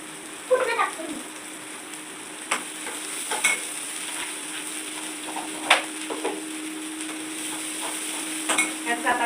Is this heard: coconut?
yes